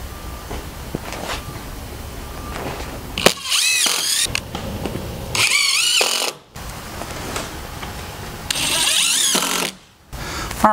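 Short Spax screws are driven into wood by a power driver in three loud whirring runs, each winding up and grinding for a second or two, with ratcheting clicks and handling noise between them and no speech.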